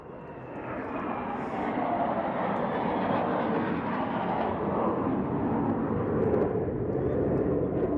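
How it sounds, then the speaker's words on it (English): An FA-18F Super Hornet and an EA-18G Growler fly past in tight formation at a beachfront air display, a loud, steady jet roar that swells and holds throughout with no talk over it. "demonstrating our beloved 1 Squadron FA-18F Super Hornet, aka the Rhino, and the 6th Squadron EA-18G Growler"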